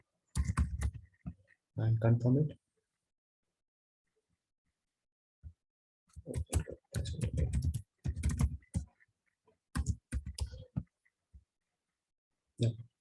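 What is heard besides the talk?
typing a password on a computer keyboard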